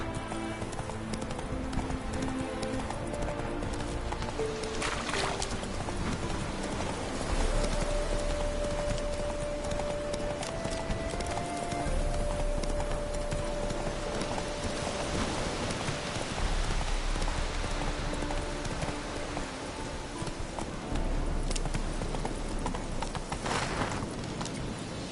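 Roach, the horse in The Witcher 3 video game, gallops with continuous rhythmic hoofbeats under a dense wash of game ambience and music, steady and unbroken throughout.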